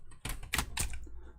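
A few crisp clicks on a computer keyboard at a repair bench, three or four separate key presses close by, with no talking.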